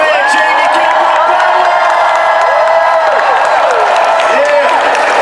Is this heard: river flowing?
no